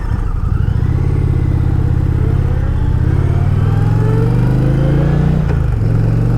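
A Toyota Camry passes close by an Indian Challenger motorcycle on the road, heard over the bike's loud, steady engine drone and wind, with a brief dip in engine tone near the end.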